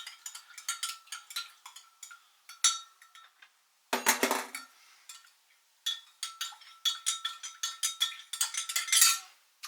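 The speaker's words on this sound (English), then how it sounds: "I'll stir that in." A spoon scrapes and clinks against a bowl while stirring ketchup into a sauce of vinegar and other ingredients, giving close, irregular metallic taps and scrapes with a brief pause partway through.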